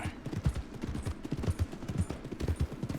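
A big horse's hooves clip-clop steadily at a walk in the Red Dead Redemption 2 game, a continuous moderately loud rhythmic thudding with rustling over it.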